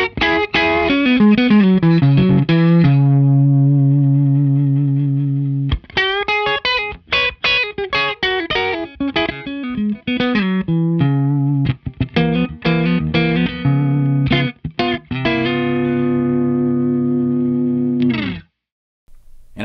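Distorted electric guitar through an Eastwood spring reverb pedal, wet and splashy, playing strummed chords and choppy riffs that ring out before stopping near the end.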